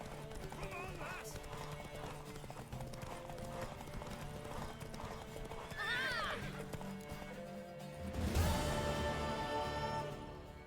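Rhythmic hoofbeats of a galloping horse clip-clop steadily beneath music and a voice in the video game The Witcher 3: Wild Hunt, followed by a loud horse whinny near the end.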